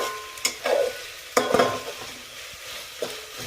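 Onion with ginger garlic paste being stirred in a pan for pulao, several distinct scraping strokes over a soft sizzle, close and moderately loud, with no voices.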